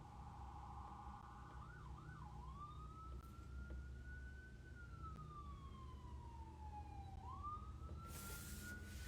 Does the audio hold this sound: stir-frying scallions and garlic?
no